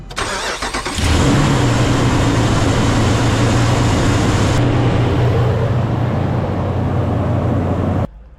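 A Ram 2500 pickup with a 6.4 Hemi V8 and a newly fitted fan clutch cranks briefly, catches and settles into a loud, steady close-up idle with a constant roar, then cuts off abruptly.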